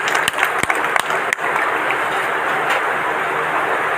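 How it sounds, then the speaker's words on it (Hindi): An audience at a yoga and naturopathy centre inauguration breaks into steady applause, with a few sharp close claps at the start settling into a continuous wash of clapping. "तालियां बजा करके स्वागत करें।"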